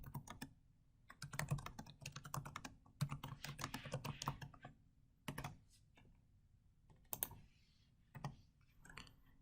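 Someone types a short message on a computer keyboard: bursts of quick, close, quiet key clicks with brief pauses between runs.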